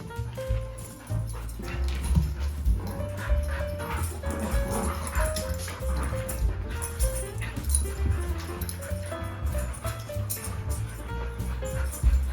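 Several dogs at a dog party give off yips and whimpers amid general bustle, with movement and scuffling over a steady low background hum.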